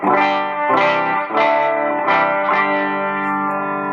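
Dean electric guitar on a muddy BC Rich bridge pickup, several chords struck in a loose rhythm with a thick, dull tone and lingering sustain, no voices.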